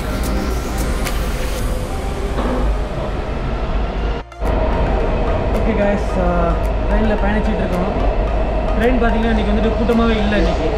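Washington DC metro train running through Union Station on a quiet Sunday, a steady loud rumble and rail roar with a brief dropout near the middle, with people talking throughout.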